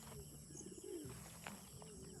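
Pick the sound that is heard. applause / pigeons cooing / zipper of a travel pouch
pigeons cooing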